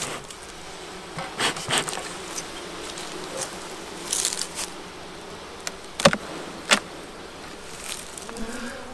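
Honeybees buzz steadily around an opened hive outdoors, a constant insect drone with a few louder passes close by and brief clicks of handling.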